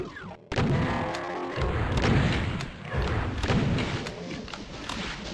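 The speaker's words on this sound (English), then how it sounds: "It's like these rockets are really following me." Rocket explosions in Doom II, on the Master Levels map Titan Manor, land as repeated heavy booming thuds in a dense, loud, continuous barrage of game noise, with no speech over them.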